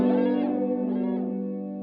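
Electric guitar through a wah pedal on a Valeton GP200 multi-effects unit, a sustained distorted chord whose tone sweeps and shifts in brightness, heard alone and fading slightly toward the end.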